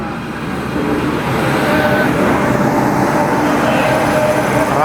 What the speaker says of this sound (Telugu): మనమైతే జోలార్పేట జంక్షన్ నుంచి అయితే బయలుదేరిపోతున్నాం